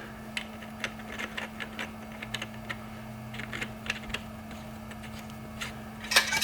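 A bolt on a mid drive e-bike motor being tightened with a Luna tool, heard as faint, sharp ticking clicks spaced irregularly over steady low background hum, with a brief louder rattle near the end.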